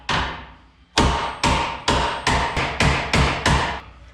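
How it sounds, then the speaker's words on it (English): A hammer strikes the metal of an S10 pickup frame fitted with Corvette suspension, eight sharp ringing blows in a steady rhythm, loud and close, each ringing briefly before the next. "It looks like I do need to just hammer up the metal just a bit on this side and on this side"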